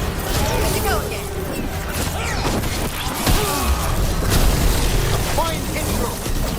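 Gunfire and explosions from the video game Dragon Age: The Veilguard form a loud, continuous battle din of booms and impacts, with voices shouting over the combat.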